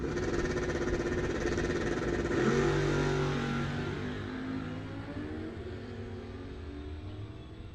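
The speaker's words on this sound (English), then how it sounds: "That is the motorcycle of Josh Gill." A drag-racing motorcycle at a bracket and index racing event accelerates down the strip, a loud sustained engine roar that surges then gradually fades as it pulls away.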